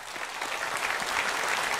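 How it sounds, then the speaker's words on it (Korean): A church congregation at a Sunday worship service breaks into sustained, dense applause that stays steady and full throughout, with no pauses. "박수를 축하합시다."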